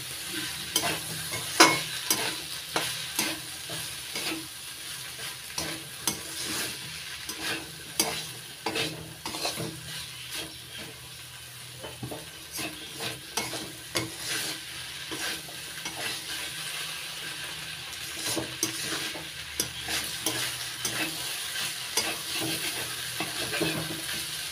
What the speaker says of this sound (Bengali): আবার একটু ভাজা ভাজা করে নেব লঙ্কা বাটা দিয়ে।